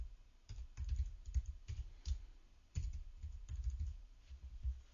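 Someone types text on a computer keyboard in short, quiet bursts of rapid key clicks with a brief pause midway, close and clear with no talking.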